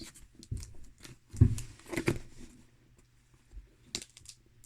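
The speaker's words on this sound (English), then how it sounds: "Got the trusty scissors." Scissors snipping and tearing at a taped snack parcel from Japan, a few close, irregular cuts and rustles with pauses between.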